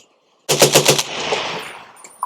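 A 7.62 rifle fitted with a Rugged Axial suppressor fires a quick string of about five loud, close shots, followed by a fading echo, with no talking.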